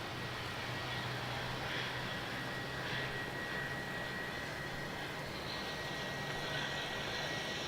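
Jetstar jet airliner running up its engines at Melbourne Airport at night, heard from a distance as a steady, faint broadband roar with a low rumble that holds throughout, with no voices.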